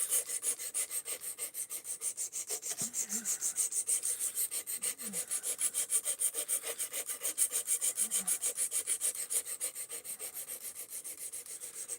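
Knife blade drawn steadily across a sharpening stone, a continuous rhythmic rasping scrape of repeated strokes, close and fairly quiet, with no talking.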